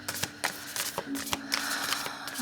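Tarot cards being shuffled by hand up close, a run of crisp riffling and flicking sounds with quick repeated card snaps, steady and continuous throughout.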